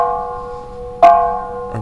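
Temple bells at Mae Hong Son, Thailand, rung for a wish: a sustained ringing tone is struck again with a bright clang about a second in, then another strike follows near the end.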